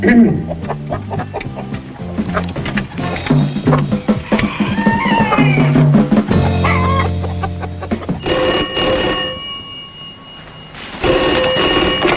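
Chickens cluck and squawk in quick, busy bursts in a 1976 Afrikaans action drama, with sustained ringing tones breaking in later.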